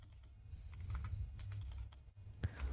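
Quiet close-up tapping on a computer keyboard, a run of soft irregular keystrokes with a slightly louder key press near the end, no talking.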